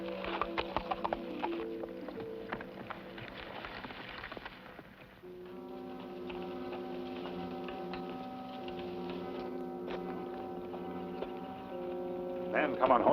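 A horse's hooves clip-clop in a steady rhythm behind a dramatic orchestral music score on an old western radio-style episode, the clopping fairly close and continuous throughout.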